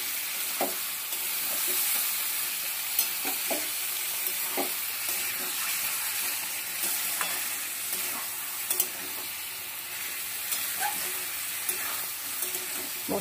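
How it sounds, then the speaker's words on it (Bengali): Potato and jackfruit are sautéed with spices in a pan, a continuous sizzle broken by frequent scraping stirs and small clicks over about thirteen seconds. "আলু আর এঁচড়টা একসঙ্গে ভালো করে কষিয়ে নেবো আবার"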